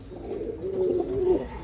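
A pigeon gives a clear, close cooing call that swells into a sustained throaty warble before trailing off, alone and fairly loud.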